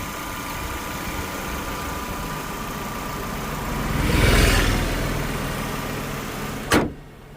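A Maruti WagonR's naturally aspirated engine idles steadily with a low, even hum, swelling briefly midway, then a sharp thunk like a door closing near the end.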